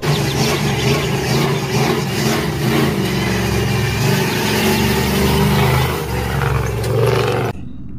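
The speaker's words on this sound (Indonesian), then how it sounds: "Kita menemukan bus." A large yellow bus's engine runs loud and close with a steady, roaring drone that swells slightly before ending abruptly.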